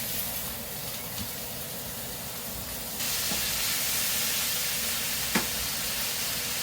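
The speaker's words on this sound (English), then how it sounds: "We'll start adding the sausage in" Sausage sizzling in a hot skillet, a steady broadband hiss that grows louder partway through as more meat hits the pan, with a brief clink near the end.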